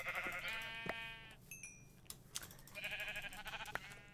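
Sheep bleating in Minecraft: two distinct, faint bleats with a pause between them, with a few soft clicks and game sounds in the background.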